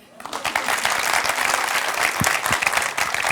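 A studio audience applauds on a Turkish television talk show about longevity and nutrition, dense continuous clapping that swells in and holds steady, close and loud.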